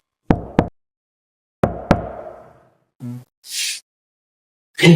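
Knocking on a door, two pairs of sharp, close raps in quick doubles separated by a pause, followed by a few short noisy bursts.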